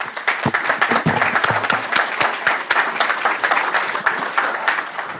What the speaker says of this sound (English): Let's give them some applause real quick.